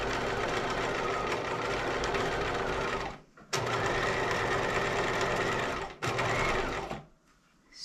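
Sewing machine stitching an eased seam, a steady close whirring run broken by two brief pauses, then stopping near the end.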